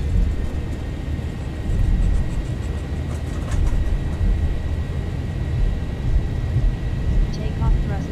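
A steady, heavy roar from Boeing 737 jet engines building toward takeoff thrust in a flight simulator runs loud and unbroken throughout, with faint tonal whines riding above the dense low rumble.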